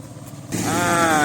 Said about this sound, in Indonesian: Ini kita dengar di kejauhan itu apa namanya, mesin ya, mesin penggiling kopi sedang giling kopi itu.